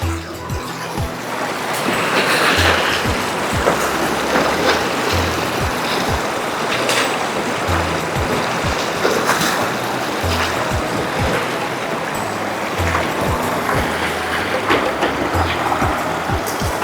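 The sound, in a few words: strong river current flowing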